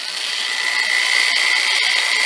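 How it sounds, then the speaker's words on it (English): A handheld power drill held against a wheelchair wheel, spinning it in a steady, continuous high whir with no break, loud and close, with no talk. "I will hold the power drill up against the wheel like this"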